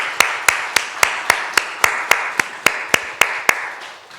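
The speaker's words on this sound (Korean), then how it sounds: "이들을 위해서 한번 감사의 박수 한번 하겠습니다" A church congregation gives thanks with rhythmic unison clapping, about a dozen sharp, evenly spaced claps, fairly loud and close with no voices.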